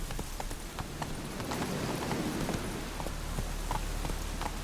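Roach, the horse in The Witcher 3, gallops along with a steady clip-clop of hooves, rain falling in the background the whole time.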